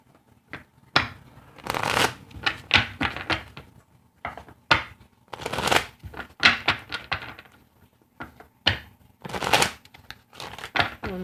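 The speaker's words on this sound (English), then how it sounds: "One more shuffle." A deck of reading cards is shuffled by hand in repeated crisp bursts of riffling and slapping, separated by short pauses, close and clear with no talking.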